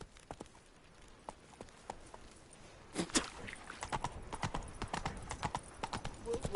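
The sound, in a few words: horse hooves galloping, from video game The Witcher 3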